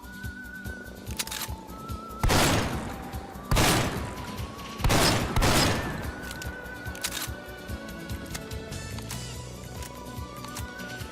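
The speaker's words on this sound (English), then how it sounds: "Yes, it's a Swedish shotgun" A Swedish shotgun fired in a modded Fallout 4 game, three loud booming shots spaced a second or so apart, each followed by a decaying tail, over quiet game ambience and music.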